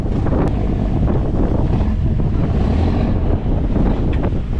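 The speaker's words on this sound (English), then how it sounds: "Outside, the waves and wind were still very strong." Strong sea waves and gusting wind during a storm at sea aboard a small fishing vessel, a steady loud roar of surf and buffeting wind noise with no pauses.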